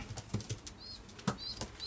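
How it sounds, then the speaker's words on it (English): Pigeons bred from a top racing flyer flap their wings in repeated bursts of close, fluttering wingbeats, with no voices present. "these are beautiful pigeons, these."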